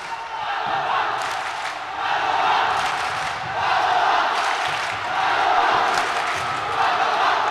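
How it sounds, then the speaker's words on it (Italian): Padova futsal fans chant in the stands during a Coppa Italia match, rising and falling waves, a loud massed roar of voices swelling every couple of seconds. "lo sentirete sicuramente il coro dei tifosi biancoscudati"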